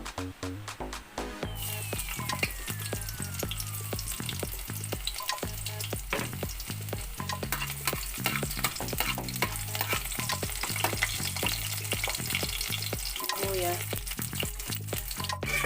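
Beef for caldereta fries in a pan with a loud, steady sizzle, while repeated stirring scrapes and clacks break through at a close, busy rhythm the whole way.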